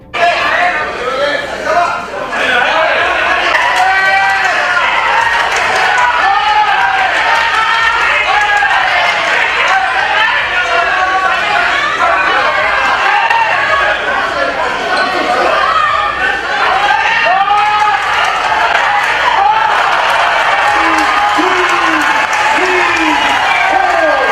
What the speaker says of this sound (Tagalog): sigawan ang mga Japanese fans pag tumama ang kanilang pambato